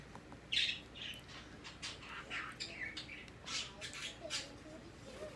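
Birds squawk and chirp repeatedly at moderate distance, a busy scatter of sharp calls over low background noise.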